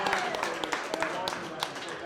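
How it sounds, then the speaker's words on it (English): Brief round of clapping from a small live podcast audience, moderately loud and dense, lasting only a couple of seconds. "Let's have a round of applause for Saint-Quentin."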